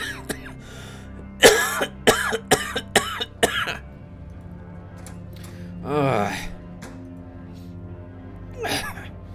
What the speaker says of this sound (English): My cough is only this bad when I talk